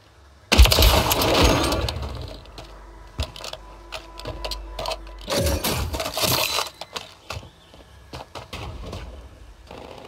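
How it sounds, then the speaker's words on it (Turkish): Gunfire in the video game Warzone, bursts of sharp crackling shots and rapid clatter coming in loud clusters with short gaps between them. "Bak, çatışma sesi geliyor."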